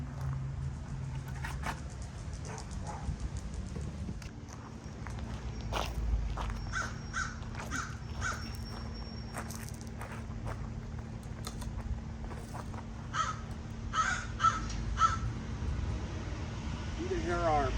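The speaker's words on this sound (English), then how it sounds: "You can hear our pet crows out here." Crows cawing in trees at a camping spot, a series of scattered harsh calls from several birds at moderate distance over a quiet outdoor background.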